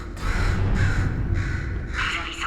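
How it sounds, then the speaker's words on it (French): Crow caws from the Portal video game, several harsh calls in sequence with a denser burst near the end, loud and close over a low background hum. "Pourriez-vous tuer cet oiseau?"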